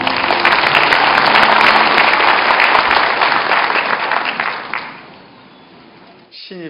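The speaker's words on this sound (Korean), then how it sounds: "큰 박수로 환영해 주시기 바랍니다." Loud, sustained applause from an audience at a university entrance ceremony fills the hall, steady for about five seconds and then tapering off sharply.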